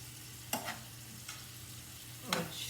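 Rotini pasta with crab meat simmers in a pan and gives a quiet, steady bubbling sizzle, broken by three short scrapes of a utensil against the pan.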